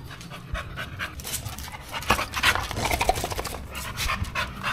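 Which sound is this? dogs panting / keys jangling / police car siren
dogs panting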